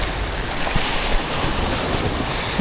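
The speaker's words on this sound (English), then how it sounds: "the wind's starting to pick up" Wind gusts steadily on a bridge by the sea in Rhode Island, a loud, constant rushing roar buffeting the microphone throughout with no talking.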